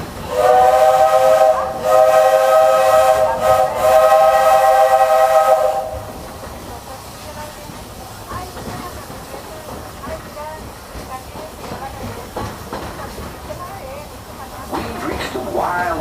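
Walt Disney World Railroad steam train at the Magic Kingdom sounds a loud, steady steam whistle for about six seconds, followed by quieter hissing and rolling train noise that swells slightly toward the end.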